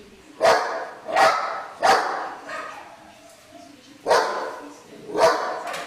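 A dog loose in a shared hallway barks five times, each bark loud and close, in two spaced groups with short pauses between them.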